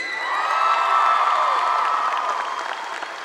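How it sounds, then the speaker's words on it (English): Loud, sustained applause from a large crowd at a high school graduation ceremony, with scattered cheers and whoops rising over the clapping, then slowly tapering off. "Please join me in a round of applause for these outstanding top 10 students."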